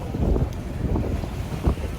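Wind roaring across a sailboat beating directly into about 12.7 knots of headwind in the Whitsundays, a steady broadband rush with low buffeting gusts and faint wave wash, no voices.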